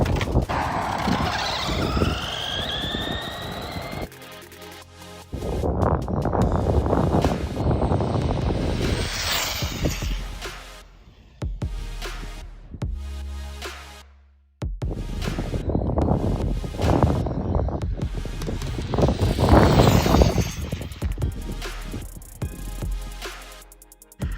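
A Traxxas Bandit RC car on a 2S Liperior 8000 mAh LiPo roars past twice in loud speed passes, its high electric whine rising and falling with wind rush and brief tire noise between runs.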